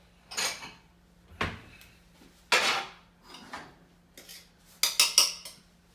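Dishes and cutlery clatter nearby as a bowl and a spatula are fetched in a kitchen, several separate clinks and knocks with quiet gaps between them, ending in a quick cluster of ringing metallic taps; nobody speaks.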